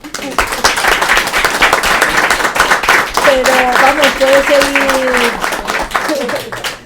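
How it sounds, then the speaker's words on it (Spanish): An audience at a Spanish talk show claps in a steady round of applause with dense overlapping claps, while voices speak over it close by. "Un fuerte aplauso"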